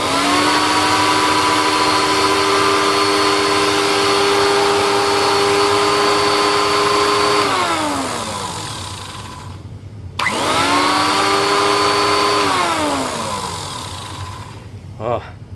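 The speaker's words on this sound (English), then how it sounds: "let's see how good this motor and brush roll sounds" A TriStar turbo brush vacuum's motor and brush roll run loud and steady up close with a high whining tone, wind down, then restart briefly and spin down again.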